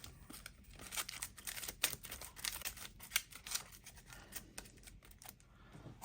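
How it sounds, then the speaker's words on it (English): Playing cards for the Marvel Champions card game, four of them shuffled into the encounter deck, give close, quiet papery riffles and snaps in quick irregular bursts, with no talking. "we're going to shuffle these 4 cards into the encounter deck"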